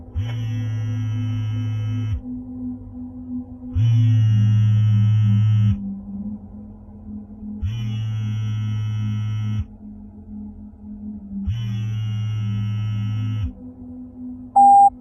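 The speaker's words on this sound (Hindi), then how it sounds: "इंस्पेक्टर राठौड़ को रात के 2 बजे उसके मोबाइल फोन पर कॉल आता है" A mobile phone rings with an incoming call at night, giving four buzzing ring bursts of about two seconds each, separated by short pauses, steady and fairly close.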